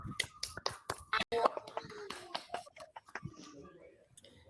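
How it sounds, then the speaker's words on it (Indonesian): A small group claps for group 3 after their class presentation, a few close sharp claps at first thinning into scattered ones, with soft talk under them. "Kita berikan aplaus dulu pada kelompok 3"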